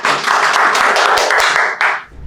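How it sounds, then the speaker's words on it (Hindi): Applause for a speaker at an AC PCB repair course, a short burst of many hands clapping close and loud, fading out after about two seconds. "एक बार जोरदार तालियां हो जाए सर के लिए।"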